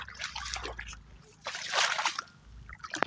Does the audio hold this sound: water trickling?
yes